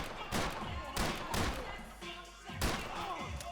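Muffled gunshots from the video game Max Payne 3, several thumping bursts in a short run over game noise, with someone talking in German between them.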